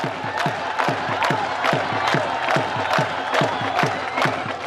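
Crowd at a Pakistani border guard ceremony cheering amid rhythmic sharp beats, likely drums or clapping, repeating evenly throughout, loud and lively with layered shouts.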